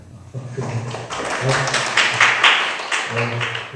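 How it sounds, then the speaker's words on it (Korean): One person claps loudly and steadily in a hall during a church youth retreat talk, with a voice speaking before and after the claps. "박수가 크시네요, 한 분이."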